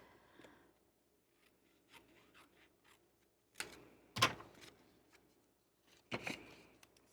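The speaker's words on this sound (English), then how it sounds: "So let me cut this real quick." Scissors cut toffee-colored scrapbook paper in a few quiet, separate snips and rustles, with two louder crisp cuts near the end, close and otherwise near-silent.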